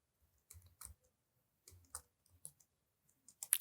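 Code is typed on a computer keyboard in Android Studio, with short bursts of soft, close keystrokes separated by pauses.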